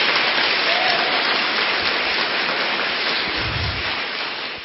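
Applause from a congregation at a Catholic talk on healing, a dense steady wash of clapping that fills the clip and thins slightly toward the end, with no voices over it.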